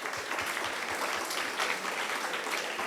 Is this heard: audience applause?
yes